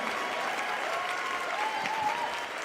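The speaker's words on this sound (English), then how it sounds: "Big round of applause for John McCune" Applause from a storytelling audience at a Moth GrandSLAM show, honoring a performer as a dense, steady clapping that fills the room, with faint whoops over it.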